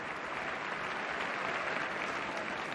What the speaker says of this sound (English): the crowd got excited on a couple of those shots